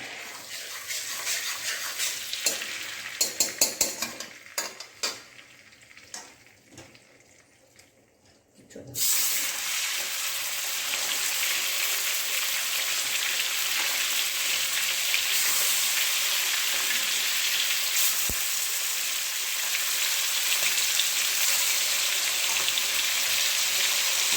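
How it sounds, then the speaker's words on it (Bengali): Marinated chicken pieces frying in hot oil in a home kitchen, a brief clatter and quiet stretch giving way to a sudden, loud, steady sizzle that holds evenly to the end. "এবার এটাকে আমি ভেজে নেব"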